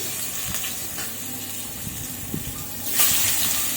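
Sliced onions frying in hot oil for birista, a continuous close sizzle with light spattering and occasional stirring clicks, surging louder near the end.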